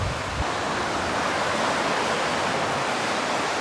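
Sea waves wash along the Niigata coast of Japan, a continuous broad rush of surf that stays loud and steady with no voices over it.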